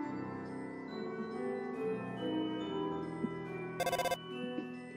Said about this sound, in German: Oh, wieder Telefon.